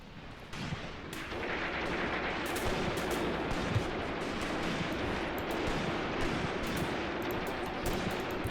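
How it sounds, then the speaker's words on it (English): Dense, close incoming gunfire and artillery in the WWII tactics game Mius Front (Graviteam Tactics) roars continuously, with sharp blasts and crackling shots layered over a heavy rumbling barrage, no voices. "we're getting fire incoming and it's pretty damn close"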